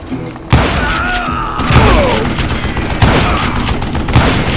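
Heavy gunfire in the Western shooter Call of Juarez: Gunslinger, loud booming shots and thuds in rapid irregular bursts, close and dense throughout.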